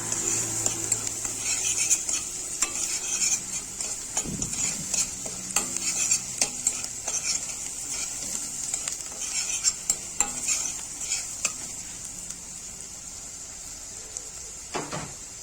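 Grated onion sautéing in a pot while being stirred for a mallow stew, a constant bright sizzle with frequent sharp clicks and scrapes of a metal spoon, plus an occasional louder knock.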